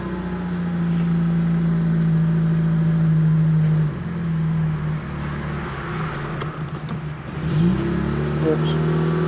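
A cold Fiat Panda 4x4 Sisley engine idles with a steady hum nearby, dipping and rising briefly as the choke and throttle are adjusted, with a voice talking over it.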